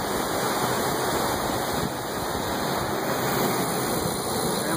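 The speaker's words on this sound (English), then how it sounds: "Now we're pre-purging the line. You can see it's bubbling up here." Wastewater sampler pre-purging its intake line at a treatment plant effluent point, producing a steady, fairly loud bubbling and rushing water wash that continues without a break, with no voices.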